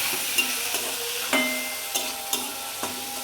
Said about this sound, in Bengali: এর মধ্যে আমি মসুর ডালটাও দিয়ে দেবো। দিয়ে একটু নাড়াচাড়া করে নিয়ে